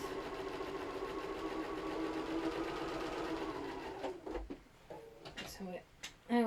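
A sewing machine runs in a steady continuous stitching whirr for about four seconds, close and fairly loud, then stops, followed by scattered handling clicks and bumps.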